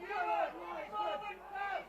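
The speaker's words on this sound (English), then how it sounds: "crowd are yelling for a forward pass" Rugby league crowd at an Oldham versus Hull Kingston Rovers match, yelling for a forward pass: a loud, sustained mass of shouting voices swelling in waves, heard close and filling the whole moment.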